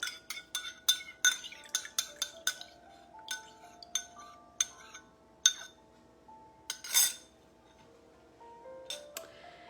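Melted chocolate is poured from a container into a bowl, heard as a close, irregular run of sharp clinks and scrapes of utensil against dishware, spaced through a quiet room with no talking.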